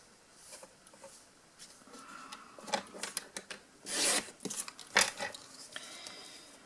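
Scissors or a blade trimming paper around a stamped image, a series of short crisp snipping and rasping cuts, close and fairly quiet, with a few louder strokes in the middle.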